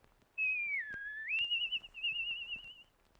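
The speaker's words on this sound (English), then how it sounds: "As soon as Roscoe said that, Saul let loose a mighty whistle." A single loud human whistle, sliding down and back up, then held as a wavering tone for about two and a half seconds against a quiet background.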